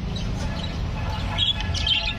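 A hen calls from inside an aviary, with a few short chirps over steady background noise.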